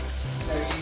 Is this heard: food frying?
yes